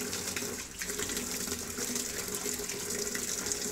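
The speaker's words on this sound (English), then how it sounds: "It's going to dispense the water in the main one." A Fisher and Paykel washing machine running its diagnostic settings dispenses water into the main drum, a continuous rushing hiss of inflow, close and steady throughout, with no talking.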